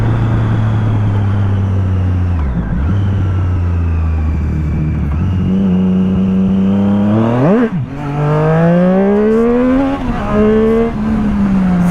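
A Triumph Street Triple motorcycle engine drones loudly and close, holding a steady rev, dipping, then climbing sharply through quick revs before settling into a rising, high-pitched run.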